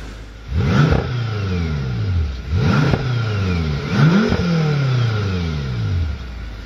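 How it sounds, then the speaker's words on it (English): A 2013 BMW M5 F10 engine revs hard three times, each blip rising quickly and falling back toward idle, loud and close with no talk over it. "Beautifully free revving engine,"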